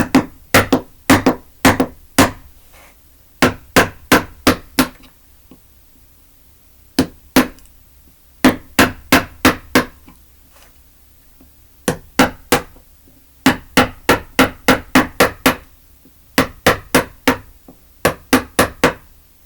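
Mallet striking a large chisel while carving a woodblock for printmaking, sharp loud wooden knocks in quick bursts of four to six with short pauses between groups, close and without speech.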